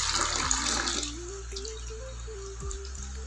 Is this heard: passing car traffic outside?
no